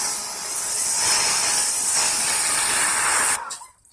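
A Greenworks Pro 2200 PSI pressure washer sprays through a 15-degree nozzle with a loud, steady hissing rush that runs for several seconds, then cuts off abruptly and leaves only a faint fading tail.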